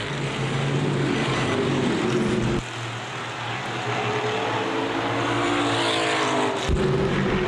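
Street stock race cars in a pack at Winchester Speedway, loud engines roaring continuously with rising and falling pitch as cars pass, a brief dip midway, then the roar swelling again.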